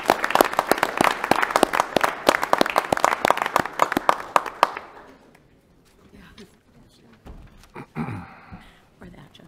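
Dense crowd applause at a city council meeting with sharp overlapping claps for about four and a half seconds, then it stops abruptly and quiet talk follows.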